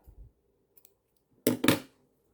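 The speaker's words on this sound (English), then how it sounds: "Cut off the yarn" Two quick, crisp snips of scissors cutting off yarn after crocheting a granny square, close and distinct against near silence, with a faint handling tap just before.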